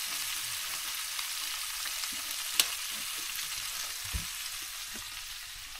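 Fish fries in a pan, a continuous bright sizzling hiss at a moderate level, broken by a sharp click and a soft knock partway through.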